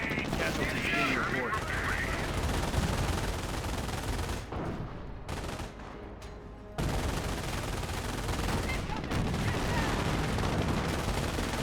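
MG42 machine gun fire in the WWII strategy game Company of Heroes, dense overlapping bursts and battle noise running throughout, with a brief lull partway, under a commentator talking.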